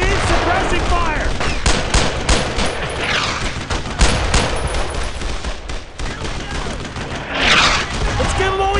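Sustained suppressing machine-gun fire rattles in the World War II shooter Brothers in Arms: Road to Hill 30, with dense rapid bursts and overlapping rifle shots filling the whole stretch, loud and close, with voices mixed in.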